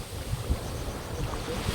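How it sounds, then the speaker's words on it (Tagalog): Strong sea waves surge and churn near a fishing spot, a dense, continuous roar with wind buffeting the microphone and no voices. "Ang lakas kasi na alon."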